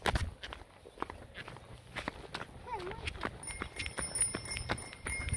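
A child rides a bicycle and rings its bell, a few bright metallic rings near the end, with footsteps and scuffing underneath and outdoor background noise.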